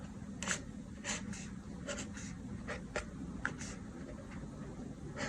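Pencil sketching legs on paper, a soft continuous scratchy rasp with repeated short brisk strokes, close and fairly quiet over a low background hum.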